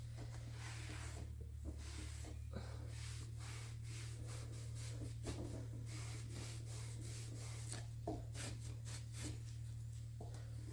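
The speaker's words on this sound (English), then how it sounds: "And let's wipe that off with the rag." A rag wipes wood stain off a wooden vanity dresser being refurbished, repeated close rubbing and swishing strokes over a constant low electrical hum, fairly quiet throughout.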